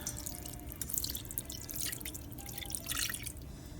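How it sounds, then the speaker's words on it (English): Spiced broth poured over a turkey breast in an Instant Pot pressure cooker, a close, continuous splashing, dribbling pour with no talking. "Then I'm just going to pour that over the breast."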